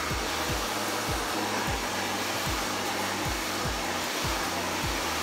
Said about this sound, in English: Blow drying it.